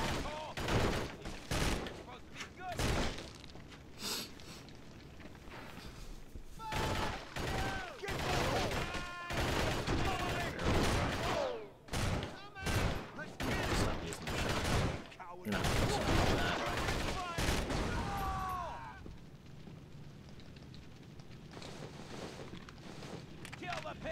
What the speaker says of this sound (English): I wish the shotgun was more accurate.